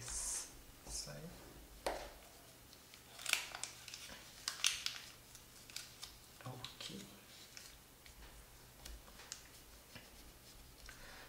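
Paper creases and rustles in small bursts while an origami crown box is folded and reverse folds are pressed in, with soft scattered clicks and a quiet voice talking over it.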